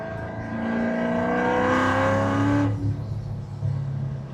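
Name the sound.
supercharged Corvette C7 downshifting and accelerating in a rolling pull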